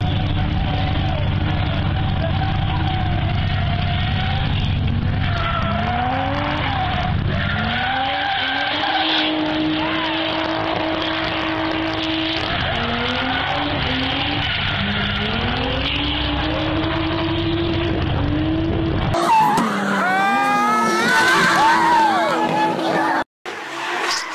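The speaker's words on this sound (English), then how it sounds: "We used to drift cars." Drift cars slide on pavement with long, wavering tire squeals over loud, steady engine roar, the screeches rising and falling repeatedly before a burst of sharper squealing near the end.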